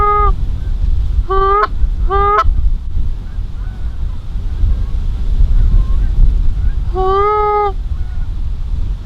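Geese honk in flight in strong wind, giving a few short bursts of nasal calls early and one more burst later. The calls ring clear over steady wind buffeting on the microphone.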